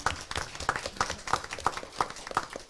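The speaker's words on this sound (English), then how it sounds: "Miss Marla Edwards, can you give that lady a round of applause?" Scattered applause from an audience at a school district board meeting, with irregular claps repeating at a fairly steady pace and no talk over it.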